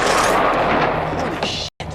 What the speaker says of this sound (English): This movie has a ton of unwarranted explosions